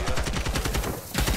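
Rapid bursts of automatic gunfire in a multiplayer shooter video game during a high-rise push, loud and close with repeated rhythmic shots, a brief pause near the end before firing resumes.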